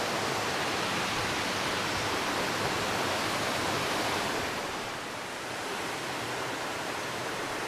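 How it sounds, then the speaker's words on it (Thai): Heard from the top of a waterfall in a summer New York forest, the water gives a loud, unbroken rushing roar that dips slightly for a moment, then carries on with no voices. "ตอนนี้เราจะอยู่ข้างบนของน้ำตกเนาะ"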